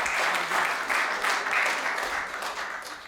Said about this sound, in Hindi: तो आपकी जोरदार तालियों के बीच में भाई गुड्डू शादीशुदा